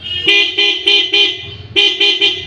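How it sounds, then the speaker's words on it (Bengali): Horn of a Honda CB Twister motorcycle after a switch repair, sounding loud and close in a quick series of short honks, a pause, then three more blasts. "একবার ফাইনালি দেখে নেবো হরেনটা আমার কেমন বাজছে"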